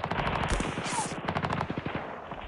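Rapid bursts of machine gun fire from the wargame Campaign Series: West Front, a dense rattling stream of shots that keeps up loud and steady throughout with no talking.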